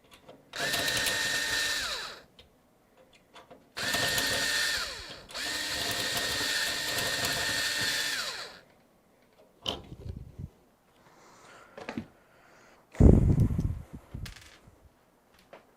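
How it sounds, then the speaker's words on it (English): A power drill works at a stuck screw in a PC case, in several loud, close whirring bursts of a few seconds each, followed by shorter spurts and clattering bumps. "I'll just drill it."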